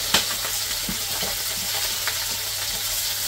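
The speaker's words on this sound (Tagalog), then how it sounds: "Prito na tinapa." Smoked fish (tinapa) frying in a pan on a rainy day, a steady close hiss of sizzling oil with a few sharp pops and crackles, no talking.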